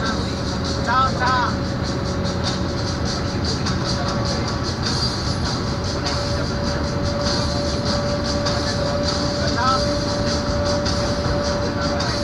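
A passenger train runs steadily with a continuous rumble and rattle of the carriages throughout, as people talk and a vendor calls out inside the coach.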